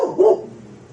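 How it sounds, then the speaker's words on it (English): A pet dog gives a single short bark in a room indoors, close and moderately loud, followed by a quieter fading tail with no other sounds. "Oh, that's my dog, Lovely."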